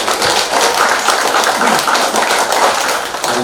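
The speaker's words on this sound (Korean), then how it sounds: "모든 우리 가족분들 환영의 박수 한번 보내주시기 바랍니다" Audience applause at the opening ceremony of a Dongui Bogam special exhibition, a dense, steady wash of clapping that carries at full level across the whole moment with no talk over it.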